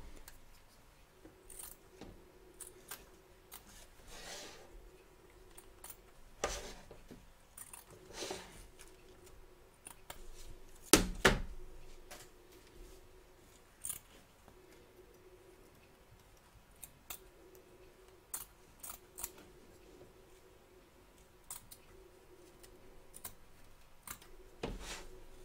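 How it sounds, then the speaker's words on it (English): Scissors trimming excess fabric around machine embroidery stitches in a hoop, with quiet, sparse snips and small clicks spread out at irregular intervals over a faint steady hum. "Trim away the excess fabric from around the edge of the stitch lines, taking care not to cut your stitches"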